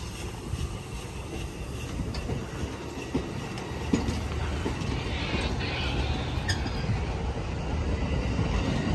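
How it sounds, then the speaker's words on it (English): An Amtrak San Joaquin passenger train, number 714, pulls out of the Richmond, California station on a windy day, producing a steady rolling rumble with clickety-clack wheel noise and faint metallic squeals, all at moderate distance. "Now departing the Richmond station right now. Once again, Amtrak 714 to Bakersfield"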